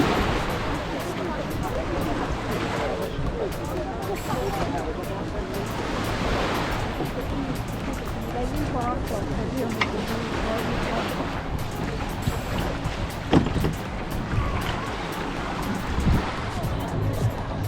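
Surf washing steadily onto the beach at Cattolica on the Italian Adriatic coast in August, a continuous broadband wash with wind noise buffeting the microphone and a brief louder knock near the end.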